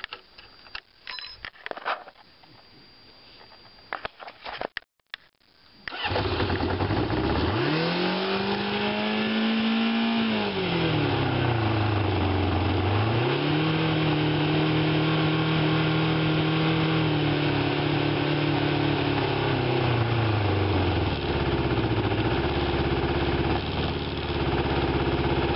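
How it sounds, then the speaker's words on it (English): A Kawasaki Ninja sport motorcycle engine starts after some handling noise, then idles and revs up and down in a couple of long swells, close and loud with no talking. "And so now the Ninja is running really well."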